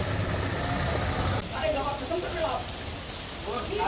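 Heavy monsoon rain pours steadily over Gwalior, a dense continuous hiss with a low rumble underneath, and faint tonal traces that may be voices or traffic within the downpour.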